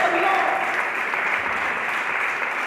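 Sustained applause from a church congregation during a Spanish-language sermon, a thick continuous roar of clapping with a voice briefly rising over it near the start.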